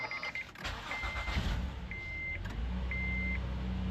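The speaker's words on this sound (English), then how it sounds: "Let's fire it up, make sure we don't got no check engine lights" Honda Odyssey van engine starting up, a low cranking catch settling into a steady idle rumble, with repeated electronic beeps chiming through the cabin.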